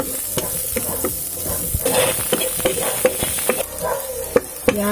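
A chicken mixture sizzling in a casserole pan while being stirred, with repeated sharp scrapes and knocks of a utensil against the pan over a constant frying hiss.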